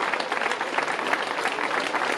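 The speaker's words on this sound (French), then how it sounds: "on peut l'applaudir très très fort" Dense applause from an outdoor crowd at a summer evening festival inauguration, a steady, bright wash of many hands clapping.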